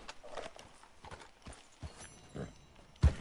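A horse's hooves clip-clop in an uneven run of soft thuds across a few seconds, fairly close, ending in one louder knock, with no talking.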